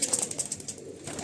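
Pigeons of a prized breed kept on a rooftop loft, giving soft repeated coos and bird calls at close range, with faint fluttering and no speech.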